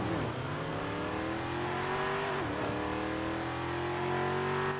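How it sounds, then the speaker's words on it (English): A Porsche GT3 engine revs in a racing video game on a wet track, a loud, continuous climbing whine that dips briefly as the car shifts and then rises again, with no talking. "This car is so loud."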